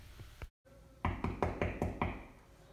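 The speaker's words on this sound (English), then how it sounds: "there was a knock at the door" A rapid series of about six sharp knocks on a door, close and distinct, after a few softer taps.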